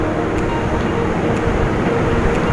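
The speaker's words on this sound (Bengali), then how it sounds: "যথারীতি ট্রেনটা আমাদের অংশের তলা দিয়ে একেবারে দাঁড়ালো শ্রীরামপুর স্টেশনে।" A train runs into Serampore station, a loud steady rumbling roar with faint periodic clicks, heard up close and with no talk.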